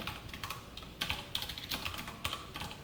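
Light, close keystrokes patter on a computer keyboard in uneven bursts with a few sharper key hits, without any talking.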